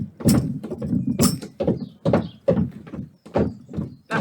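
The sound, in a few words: feet stamping, body percussion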